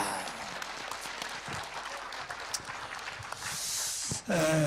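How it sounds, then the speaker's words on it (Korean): A crowd at a public hearing claps steadily in a dense patter of applause, continuing for several seconds before a brief pause near the end. "우리 정강훈 목사님의 말씀부터 큰 박수로 청해 듣겠습니다"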